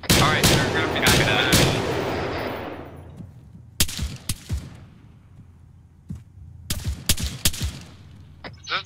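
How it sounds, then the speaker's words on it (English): Video game gunfire from a military shooter: a dense burst of rapid automatic shots at first, then scattered single cracks and short volleys, loud and near, some echoing off. "There's a bunch of people shooting at us."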